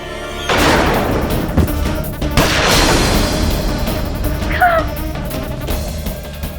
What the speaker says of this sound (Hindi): अभिनव रुको रुको, बस गोली चलाओ, गोली